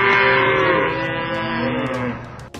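Cattle moo loudly and close, one long drawn-out low call holding for over two seconds before fading, with no talking.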